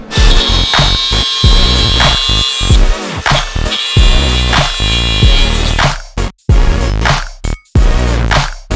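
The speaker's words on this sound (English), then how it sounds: "And now I'm going to just grind the rest." Metal being ground while making a bull bar for a lawn mower, loud and close, with harsh bursts of power-tool whine broken by short pauses and abrupt stops.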